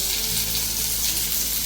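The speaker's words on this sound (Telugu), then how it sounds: "ఇప్పుడు ఇదే ప్యాన్లో ఆనియన్ యాడ్ చేసుకుందాం" Chopped onion sizzles steadily and loudly in a hot oiled frying pan, a dense continuous frying hiss with no pauses.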